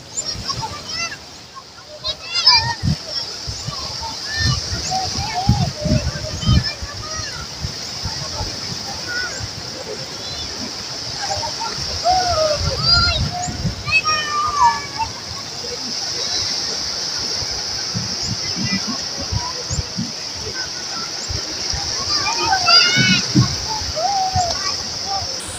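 Choppy seawater sloshing and splashing at sea during a thunderstorm, irregular surges that rise and fall throughout, with people talking over it and a steady hiss behind everything.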